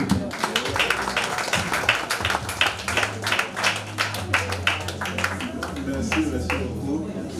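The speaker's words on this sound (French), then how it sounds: "On peut applaudir s'il vous plaît." Guests at a 60th birthday party applaud with a dense burst of clapping that runs continuously, fairly close and lively, while a voice carries on beneath the claps.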